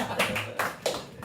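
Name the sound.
audience clapping twice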